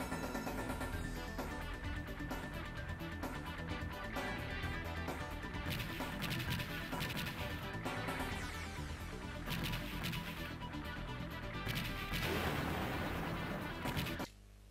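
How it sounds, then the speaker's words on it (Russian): A bomb blast from the Sega CD shooter Bari Arm, set amid dense, continuous game music and effects with crashing bursts, loud throughout and cutting off abruptly at the end. "Что это за взрыв меня убил?"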